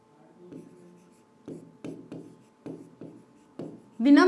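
Chalk or marker strokes on a board during a Sanskrit grammar lesson, a series of short scratchy bursts in an uneven rhythm, close and moderately loud, with a brief louder sound at the end.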